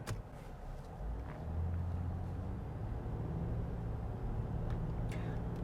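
A Ford Explorer Sport Trac's engine hums quietly during normal acceleration, a steady low rumble from inside the cabin with faint road noise and no talking.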